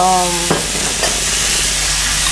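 Endives braising in a pan for a lavender leg-of-lamb recipe hiss loudly and continuously at close range, with a short tonal sound at the start and a soft stirring scrape midway.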